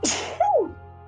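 A single sharp sneeze bursts out close and loud, followed by a short voiced tail, heard alone with no talk over it.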